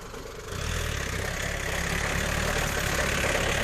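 A Kubota farm tractor's diesel engine runs steadily, its low rumble rising slightly after the first half second and then holding an even, continuous drone close by with no talk.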